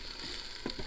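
Onions caramelizing in an Instant Pot with the sauté function just switched off, giving a steady soft sizzle and faint hiss with a few small crackles, close and quiet, with no voices.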